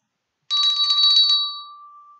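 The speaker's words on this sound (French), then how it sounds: "Un autre instrument que l'on secoue, c'est la cloche, la clochette." A small hand bell is shaken, giving a bright, rapid jingling ring for about a second that then fades into a lingering tone, alone and close.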